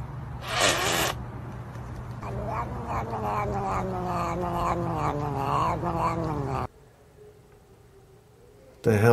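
A cat yowls and caterwauls in rising, wavering cries, loud and close, after a brief rustle, then the sound drops to near silence before a short burst at the end.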